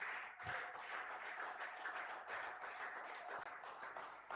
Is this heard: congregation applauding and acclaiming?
yes